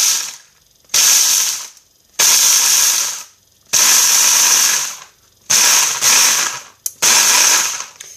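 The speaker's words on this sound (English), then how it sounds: "So I'm going to use my Ninja to bust this up." A Ninja blender grinds pecans into flour in a series of loud, roaring pulses, about five bursts separated by short pauses, close up.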